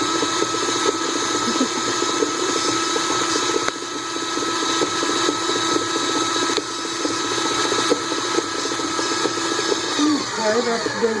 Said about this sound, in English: This is a professional mixer, and I really don't have that much room to use it in here